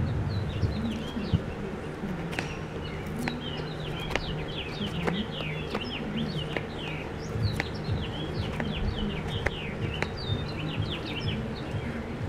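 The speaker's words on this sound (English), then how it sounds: "My birds are singing away." Birds sing outdoors near someone cutting Austrian pine fatwood, many short chirps and whistled calls scattered over a low steady background, with occasional sharp cracks.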